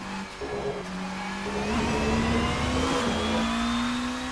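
Porsche 963 prototype race car on the Le Mans circuit in Assetto Corsa, its engine holding a steady, loud, rising drone that climbs through the gears, close and continuous with no talking.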